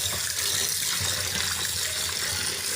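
A kitchen tap runs steadily as fish, Taafi and Chirra, are washed under it, a close continuous rush of splashing water with light wet handling and no talking.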